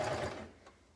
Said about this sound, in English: sewing nicely along here